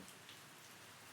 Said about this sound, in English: The rain sound is very soothing, I will say.